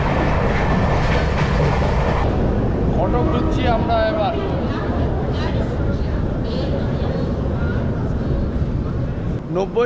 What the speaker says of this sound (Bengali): তো ট্রেন মোটামুটি চলছে ওই 6 মিনিট মতন লেট